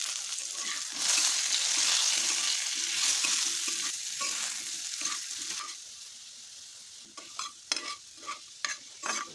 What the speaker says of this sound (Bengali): আলুটা ভেজে নেব। দিচ্ছি আলুটা।